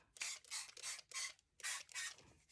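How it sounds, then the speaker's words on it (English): A handheld spray bottle of clean water mists in six quick, separate bursts with short pauses between them, close and fairly quiet, with no voices. "This is just clean water in a spray bottle."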